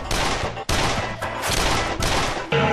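Gunfire sound effect from a Bengali film: a loud, dense burst of rapid shots, broken by a brief gap and a few separate volleys across under three seconds.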